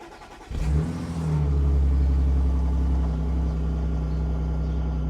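A supercharged Audi engine cranks and fires on a cold start, jumping to a high idle with a loud, steady supercharger whine that holds and slowly settles; no one speaks.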